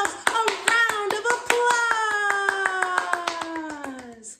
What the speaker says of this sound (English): We clapped our hands together.